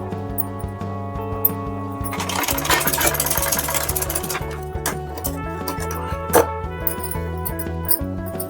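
Sewing machine stitching a salwar seam with half an inch of allowance, a steady mechanical whir running throughout, close and fairly loud, with a brief tap partway through.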